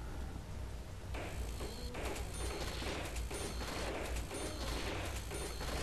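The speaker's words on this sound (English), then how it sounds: "shoot them 6 times and then knife them" Rapid gunfire from zombie-shooting gameplay in Call of Duty: Black Ops on the Wii. Dense, continuous bursts of shots and clatter hold at a steady level for several seconds.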